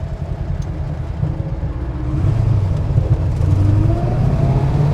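A 1967 Plymouth GTX with a cold Hemi big block idles loud and close, then revs up, holding a rough, pulsing engine note that swells midway and stays strong to the end.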